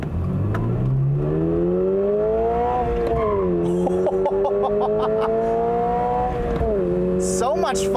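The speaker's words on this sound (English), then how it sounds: "I like the way this engine sounds." The 2022 Toyota GR86's flat-four engine pulls hard from inside the cabin, its drone climbing in pitch, easing off, then rising again through a gear change.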